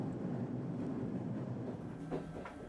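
Kansai Main Line train running as it approaches Kamo Station, a steady low rumble of wheels and carriage noise with faint brakes or rail squeal near the end, continuous throughout.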